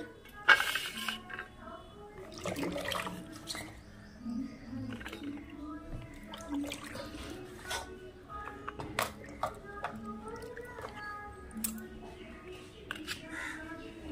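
Soaked gourd stalks lifted onto a plate in a home kitchen, with quiet scattered clinks of utensils against dishes and soft handling noises, close by.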